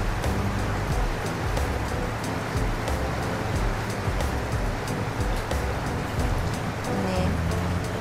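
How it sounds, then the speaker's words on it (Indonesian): Heavy rain falls steadily on water and nearby surfaces outdoors, a dense, even patter and wash that runs unbroken the whole time with no voices. "kalau airnya kayak hujan gini ya, airnya naik meluap gitu ya"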